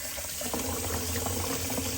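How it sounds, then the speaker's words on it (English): Tap water runs steadily into a sink during a wet shave rinse, a soft continuous splashing hiss heard close by with no voices. "let's do a little more water running."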